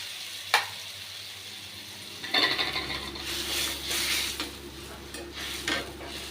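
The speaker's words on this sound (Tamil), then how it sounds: "இது நல்லா கொதித்து அந்த தொக்கு பதத்துக்கு வர வரைக்கும் கொதிக்கட்டும்." Orange peel thokku with tamarind water cooks in a pan on the stove. There is a sharp metallic clink, then a steady sizzle and bubbling begins with stirring scrapes and a few utensil taps against the pan.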